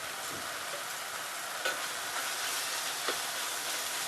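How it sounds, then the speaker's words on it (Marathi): Mutton liver gravy masala with garam masala and chili powder sautés in a pan, a steady close sizzle and fry hiss with faint stirring scrapes, no talk. "छान परतून घेऊया"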